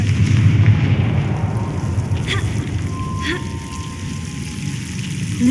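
Confringo fire blast spell cast in the Hogwarts Legacy video game, a couple of short whooshing bursts rising over a steady low rumble of ambient game sound.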